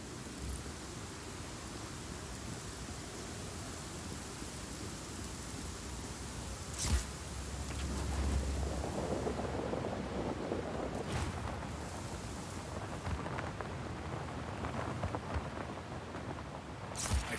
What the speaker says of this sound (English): Storm's rolling in.